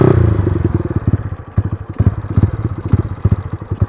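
A Honda Sonic 125 motorcycle converted into a dirt bike is ridden close by, its engine pulsing in quick uneven bursts with rattling and clatter.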